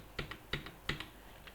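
Several crisp keystrokes on a computer keyboard, close and distinct, about four key presses each followed by a lighter release click, evenly spaced within a second and a half, with no voices.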